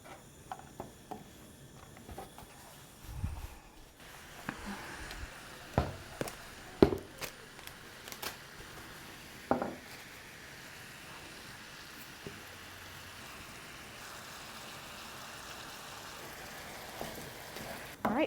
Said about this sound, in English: and then I got ground beef. We're just gonna start browning this